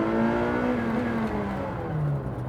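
A street rod car engine roars as the car pulls away, a harsh mechanical drone that holds steady and then drops slightly in pitch, loud and close, with no voices.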